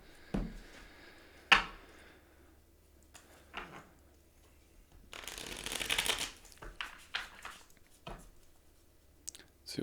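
Tarot cards are shuffled in several bursts of close riffling and slapping, with a dense flurry around the middle and sharp taps between quieter pauses.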